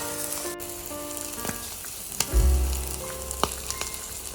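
Red ant egg omelette frying in a pan, a close, steady hiss of hot oil with a few sharp clinks of a spatula and one heavier thump partway through.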